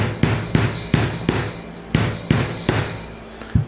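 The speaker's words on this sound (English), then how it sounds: "I'm just gonna take this little bopping hammer" Small hammer tapping a brass piece into place during an RC jet boat flex shaft install, nine sharp close taps at a steady, slightly uneven rhythm with light handling noise between them.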